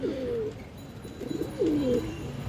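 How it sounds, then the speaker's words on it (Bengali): A khaki male pigeon coos in two rounded, wavering phrases with a short gap between them, close and clear over faint background noise. "খাকি নর দুধ খাকি নর কবুতর খুবই ভালো ব্র্যাডলাইনের কবুতর"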